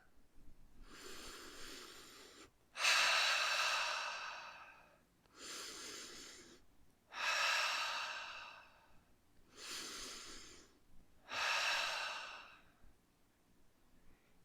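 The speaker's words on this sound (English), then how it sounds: "you just sit back, take a few deep breaths in" Slow, deep breaths taken in and out during a guided relaxation, five long close airy exhalations with quieter inhales between them, steady and unhurried with no talking.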